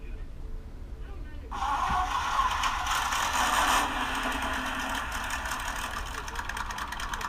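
A micro scale model car's engine idles as a steady, buzzing hiss that starts abruptly and runs on evenly at close range, with faint voices in the background.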